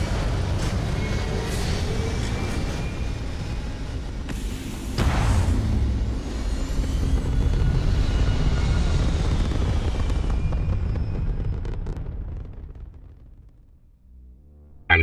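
A spaceship in the game Starfield lifts off with a loud, sustained engine roar that swells into a heavier rumbling thrust midway, holds steady, then fades away toward the end.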